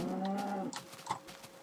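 A cow in the Minecraft video game lets out one low drawn-out moo, close and clear, followed by faint soft game sounds.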